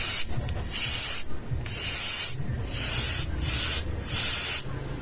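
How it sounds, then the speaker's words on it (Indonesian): Compressed air from an air compressor blasts through a motorcycle fuel injector on a Honda BeAT FI, in five loud, close hissing spray bursts of about half a second to a second each, separated by short pauses. "Dan selanjutnya kita tes lagi menggunakan kompresor."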